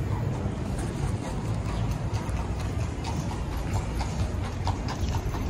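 Steady clip-clop of horse hooves on pavement, close and continuous, over a dense rumbling background of traffic-like noise.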